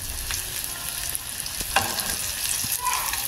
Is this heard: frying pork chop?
yes